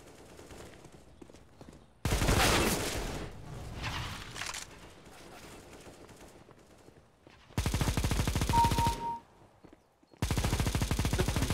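Automatic gunfire from a video game weapon, several loud rapid bursts separated by quieter gaps, one long burst near the start and two more toward the end.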